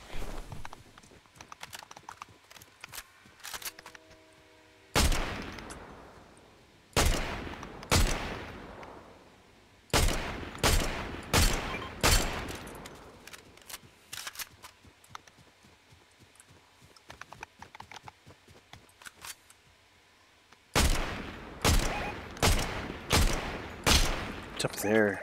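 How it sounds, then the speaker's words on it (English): Video game gunfire: clusters of sharp, loud shots crack out in quick bursts with pauses between volleys, some rapid strings of several rounds, over a low background. "Who's shooting me from where?"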